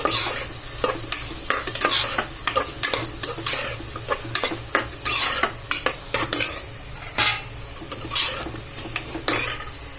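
Onions sautéing in a pan with rock salt for paneer biryani, a steady close sizzle broken by frequent sharp scrapes and clinks of a metal spoon stirring against the pan, no voices.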